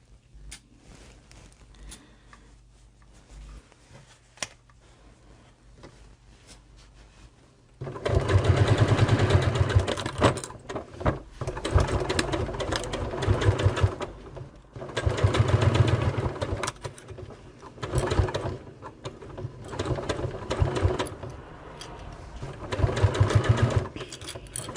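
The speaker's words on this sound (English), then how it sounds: "I'm just going to sew this into place." A sewing machine stitches a fabric bag into place, quiet handling at first, then loud bursts of rapid mechanical whirring that start and stop repeatedly, close up with no talking.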